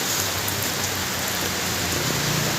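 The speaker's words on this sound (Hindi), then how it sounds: "अभी देखो बहुत बारिश आ रहा है अभी।" Heavy rain pours steadily outside near a supermarket, a dense continuous hiss of drops on surfaces at moderate level, with no voices.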